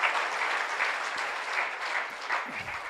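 A church congregation claps together during a bilingual French and Kinyarwanda service, producing a dense, continuous wash of applause that stays steady and close for about three seconds.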